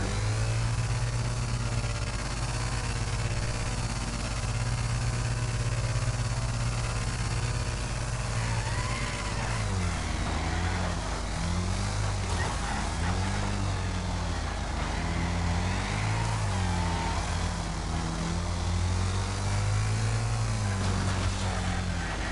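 BriSCA V8 Hotstox race cars revving their V8 engines on the grid before the start, a loud steady roar with engine notes rising and falling as several cars blip their throttles together.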